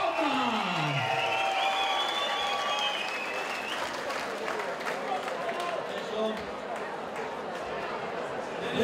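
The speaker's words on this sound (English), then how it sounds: "a big round of applause for your out tonight" Crowd at a UK amateur fight event applauds and cheers for a fighter, steady clapping mixed with shouts and whistles from a packed hall, with a voice speaking over the noise through much of it.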